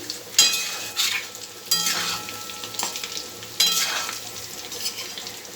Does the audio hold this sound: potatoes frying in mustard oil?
yes